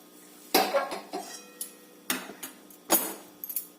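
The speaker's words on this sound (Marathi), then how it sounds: "तर परत ही कढई गॅसवरती ठेवून द्यायचा" An iron kadhai (wok) is set back on a gas stove in a home kitchen, making several close metallic clanks and scrapes, with a few lighter taps between them.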